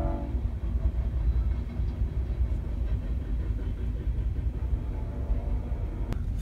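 A train rolls past near a Jeep parked overnight in cold, windy conditions in the USA, a steady low rumble and rattle of rail cars that holds through the clip, with a brief horn-like tone near the end.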